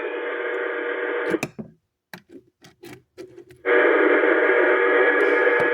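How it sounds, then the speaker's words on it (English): A TRC 226 CB radio with its antenna attached pours out loud, steady hiss of static, cut off by a stretch of clicks and tapping before the static roars back at full strength. "This thing is putting out all kinds of static, all kinds of things."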